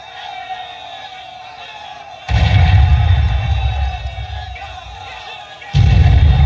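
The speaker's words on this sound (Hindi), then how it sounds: "तोप रानी पर चलाओ।" Cannon fire effect in a staged Hindi historical play about Rani Durgawati, heard as two loud, sustained booming rumbles that cut in abruptly over a steady hum, with voices shouting faintly underneath.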